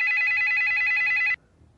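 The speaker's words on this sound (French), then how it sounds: "Le téléphone sonne." A telephone rings with a single steady electronic trill that holds for over a second and then cuts off abruptly, leaving quiet room tone.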